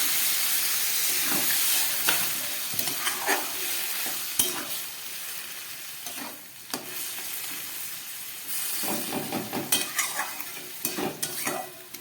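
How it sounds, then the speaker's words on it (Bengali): A banana blossom curry with potato simmers in a pan after water is added, giving a steady bubbling sizzle with intermittent stirring scrapes and clatters, close and moderately quiet, no talking. "পুরোপুরি ফুটে উঠেছে মোচার তরকারিটা"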